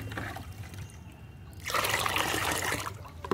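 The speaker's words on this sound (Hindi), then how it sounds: "इस तरह से मैंने इसमें पानी मिला दिया।" Water pours into a mustard cake fertilizer mix, a soft trickle at first that turns into a louder, steady splashing pour for the last half, with no talking.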